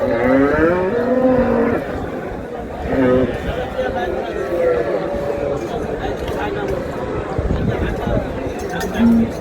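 Dairy cows and calves bellow repeatedly at Raniganj cattle market in Dinajpur, with long, loud moos rising over a constant crowd murmur. People talk throughout.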